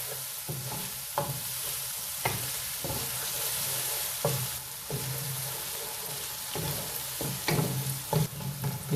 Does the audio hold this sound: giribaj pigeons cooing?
no